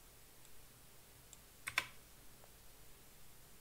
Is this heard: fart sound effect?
no